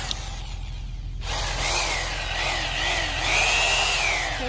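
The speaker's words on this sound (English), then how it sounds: "drill down into the soil to try to get to the root system of these plants" A power drill bores into clay garden soil outdoors, its whirring motor kicking in after a second and running steadily with wavering pitch as the bit grinds through the earth.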